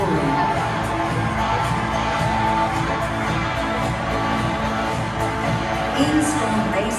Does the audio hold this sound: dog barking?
no